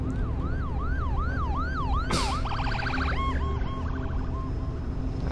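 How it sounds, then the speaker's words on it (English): Wailing ambulance sirens in the video game The Last of Us sweep up and down over a steady engine rumble, then shift into faster yelping and hi-lo tones as other vehicles join in. "Ambulances."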